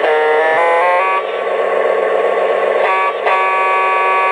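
A Lionel LionChief Santa Fe Super Chief toy train horn sounds at a raised pitch, a loud, sustained electronic tone held steadily with brief pitch shifts and short breaks near the start and end, alone without talk.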